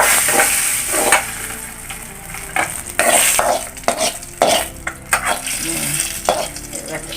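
Mustard seeds sputter and sizzle in hot oil while tempering for a mango curry, with sharp popping bursts and a stirring scrape, close by and without speech.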